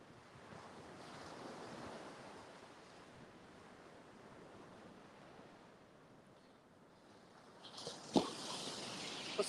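Ocean surf rolling onto Panama City beach, a broad continuous wash of breaking waves mixed with gusty wind rumble on the microphone, swelling slightly near the end with a sharp nearby knock.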